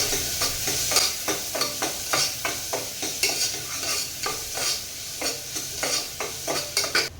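Finely chopped onion sautéing in a pan for Vanjari-style prawn rice: a steady close sizzle broken by many rhythmic stirring scrapes of the spatula, with no voices.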